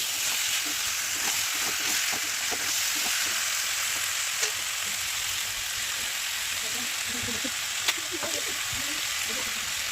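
Potatoes added to a spiced potato and egg curry sizzle steadily in a pan, a bright continuous frying hiss with scattered light stirring and scraping taps throughout.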